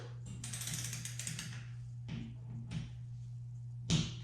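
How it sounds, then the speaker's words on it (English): A hand ratchet tightens bolts on a build in quick clicking bursts, a few rapid runs of pawl clicks over a steady low hum, with a sharper final click; fairly quiet and close. "Or don't try to tighten it up all at once on one bolt."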